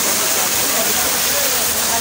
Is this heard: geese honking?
no